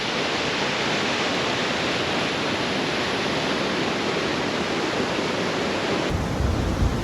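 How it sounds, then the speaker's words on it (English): A steady, loud roar of rushing water pours continuously, dense and unbroken, from the large Cauldron Linn waterfall in southern Idaho, close by. "which then results in a really spectacular waterfall"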